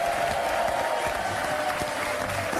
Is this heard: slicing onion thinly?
no